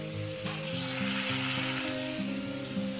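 A masala of onion paste, ginger paste and tomato sizzles steadily in a pan while being stirred, a close, continuous frying hiss over soft background music.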